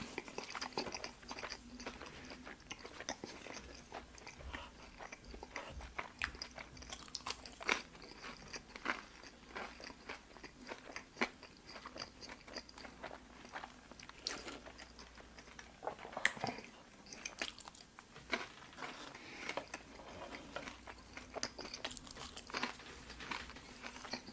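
Burger King fries are chewed close up in repeated soft crunches and bites, with faint crinkling of packaging, steady throughout and quiet overall.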